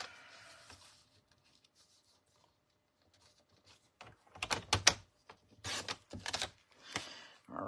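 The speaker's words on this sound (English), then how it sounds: "I'm just lining the score line right up in the track and cutting." A paper trimmer blade sliding along the track to cut scored cardstock for a paper-craft kit, a quiet start followed by several close, raspy cutting strokes in short bursts.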